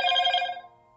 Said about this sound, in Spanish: ¡Oh, mi teléfono!